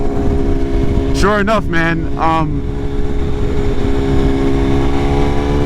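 BMW S1000RR motorcycle riding through traffic on a rainy day: a steady engine drone runs throughout, with a few rising revs in quick bursts, while someone talks over it.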